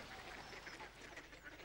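A duck quacks several times in quick succession from Rosie and Jim, a UK children's programme, faint and somewhat distant against a soft background.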